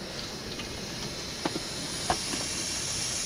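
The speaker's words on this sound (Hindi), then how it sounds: "तो तेल गरम हो चुका है अपना, इसमें डालेंगे 4 काली मिर्च और 1 इलायची।" Whole black peppercorns and a cardamom pod sizzle in hot oil at a rainy Uttarakhand campsite, a steady close hiss with a few small pops and spatters.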